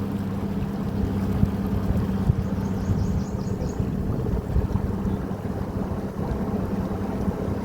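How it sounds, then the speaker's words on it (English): Steady wind rushes and buffets across a river beside a houseboat, a continuous low roar of gusts on the microphone with faint water and boat rumble beneath, no talking. "Don't mind the wind."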